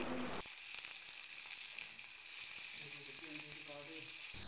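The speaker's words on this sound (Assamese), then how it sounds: "এতিয়া ইয়াত দি ধুনীয়াকৈ ফ্ৰাই কৰি ভাজি ল'ম মানে অলপ ৰঙা হোৱাকৈ" Fish heads with crushed ginger and garlic fry in a pan, a steady, moderately quiet sizzle with light crackles and scrapes throughout.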